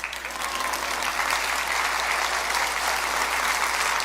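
Sustained audience applause fills a church during a sermon, a dense even clapping from a crowd continuing steadily for several seconds.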